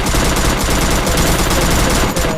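Rapid, continuous gunfire from a shooting video game, sustained dense bursts like automatic weapons filling the whole stretch at steady loudness, with no talking over it.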